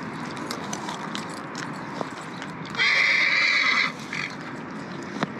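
A horse whinnies loudly for about a second amid steady clip-clop hoofbeats and background noise in the Sahara Desert, Egypt; no talking.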